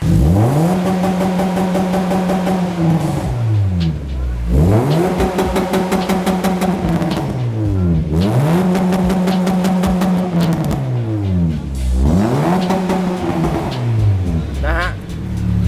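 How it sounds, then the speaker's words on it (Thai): Engine of a 2013 Honda Jazz 1.5 SV with an aftermarket exhaust, revved hard four times in a row, each climbing to a loud high whine and dropping back, close and loud with a voice briefly underneath. "เดี๋ยวให้ฟังเสียงเครื่องกัน"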